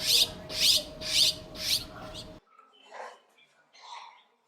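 Emerald starling calling: four loud, evenly spaced high chirps over a steady hum, then a pause and softer, scattered chirps and warbling notes in near silence.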